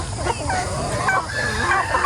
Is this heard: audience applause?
no